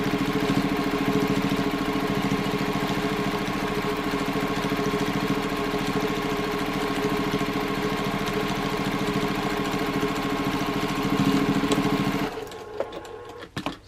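A sewing machine stitches steadily through thick layered seams of fabric while making an origami slouch bag, a loud, close, rapid mechanical whirring held for about twelve seconds before stopping, followed by a few faint handling clicks.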